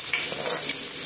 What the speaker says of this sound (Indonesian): Ini minyaknya sudah panas, kita tumis bawang terlebih dahulu.